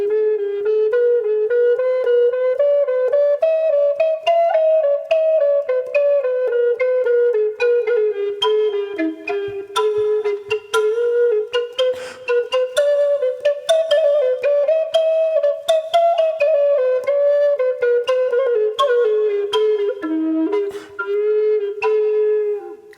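A Native American flute plays a fast woven scale in minor pentatonic and Spanish Gypsy modes, a rapid, steady run of breathy notes rising and falling, close and clear with no talking.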